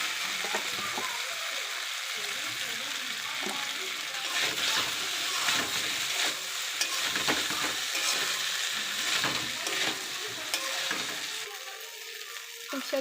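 Pasta with soy sauce and tomato sauce fries in a pan with a continuous soft sizzle, while a spoon stirs and scrapes in uneven strokes throughout.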